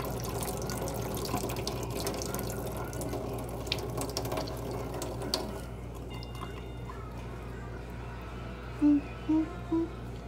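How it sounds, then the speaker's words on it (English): Tap water runs into a sink and splashes over a hand held under the stream, a steady close rush that thins out partway through, followed by a few faint squeaky clicks. "you're just gonna put your hand over it and just let the water"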